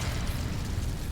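Incendio fire spell cast in the Hogwarts Legacy video game, a dense roaring burst of flame with a heavy low rumble, loud and sustained for its short length, with no voices over it.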